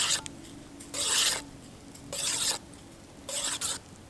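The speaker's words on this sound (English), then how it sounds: "Give it a stir here." A spoon scrapes and stirs bag rice in a camp pot outdoors in the woods in three separate bursts, close and raspy, with a quiet steady background between strokes.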